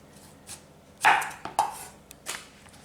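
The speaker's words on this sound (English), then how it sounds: "And then you're gonna slice it up." A knife cuts through a thin-skinned cucumber during vegetable carving for a garnish, giving a few soft, close slicing taps spaced unevenly, one crisper chop standing out among quieter strokes.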